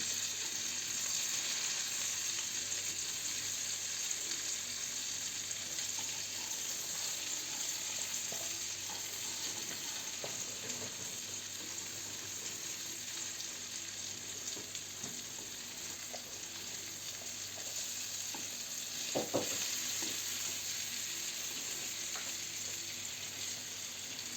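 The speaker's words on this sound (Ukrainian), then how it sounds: "Отак з усіх сторін файно смажаться." Steady oil sizzle and crackle of breaded eggplant rolls with meat frying in a pan, continuous and close, with occasional faint clinks and no talking.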